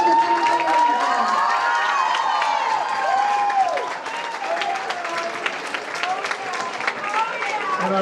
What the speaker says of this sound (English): Let's give a big round of applause to the San Antonio.